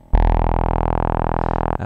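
A synthesizer tone from KV331 SynthMaster with filter distortion and bias applied, a loud, buzzy, harmonically rich sustained note with a fast pulsing flutter that starts abruptly and holds for about one and a half seconds.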